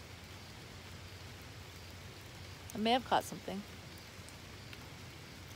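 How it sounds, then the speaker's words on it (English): Steady light rain patters outdoors at night by a bridge, a faint continuous wash under a man's brief spoken words in the middle. "It's raining and I'm getting wet."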